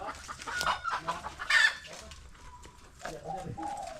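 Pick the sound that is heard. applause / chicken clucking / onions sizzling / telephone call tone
chicken clucking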